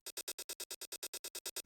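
A dry, effect-free shaker loop in a techno drum programming setup plays even 16th notes, about fourteen quick hissing shakes with slightly varied loudness, very quiet and on its own.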